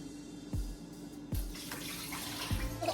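Water sloshes and splashes in a sink while sea moss is rinsed and the water changed, with three distinct pours or dumps at regular intervals against a quiet background.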